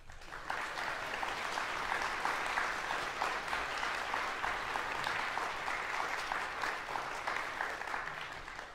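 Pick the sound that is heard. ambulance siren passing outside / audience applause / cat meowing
audience applause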